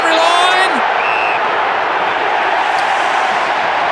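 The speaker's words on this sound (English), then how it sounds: "Crowd enjoyed it." A stadium crowd at an AFL match roars loudly and continuously as a dense, sustained wash of cheering, with a commentator's voice briefly heard over it at the start.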